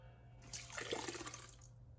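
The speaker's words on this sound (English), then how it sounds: "And pour the jar into the filter bag." Chinese rice wine (huangjiu) made from brown sweet rice pours steadily from a jar into a filter bag for about a second, a soft splashing gush that swells and fades, close by with no talking.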